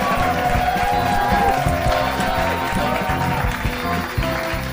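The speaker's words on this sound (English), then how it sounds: "Let's give him a big round of applause." Studio audience on a Card Sharks game show breaking into loud, sustained applause and cheering after a contestant wins five games and a new car, a dense crowd roar filling the whole stretch.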